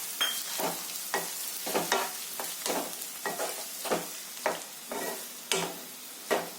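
Tomatoes sizzle in a pan of hot oil with jeera and garlic for moong dal, stirred with repeated scraping strokes in a steady rhythm over a constant frying hiss, close up and with no talking.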